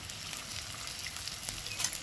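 Chopped onion and garlic fry in a pan of oil for a chicken and coriander-leaf dish, giving a steady, moderately loud hiss of sizzling with faint crackles throughout and no voices.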